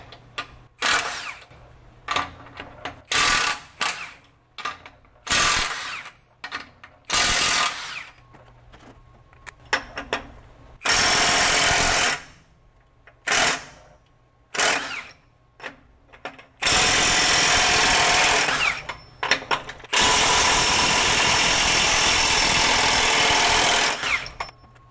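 A Milwaukee 2967 M18 FUEL high torque impact wrench in reverse, power mode 3, loosens large fasteners in repeated loud hammering bursts of varying length. Short quiet gaps separate the bursts, and the final bursts run longest.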